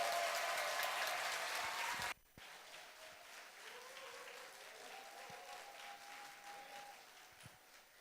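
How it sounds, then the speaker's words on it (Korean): A church congregation claps to welcome a preacher, a loud, full burst of applause that stops abruptly after about two seconds, followed by a quieter room with faint murmuring and a few stray sounds. "박수로 환영해 주십시오."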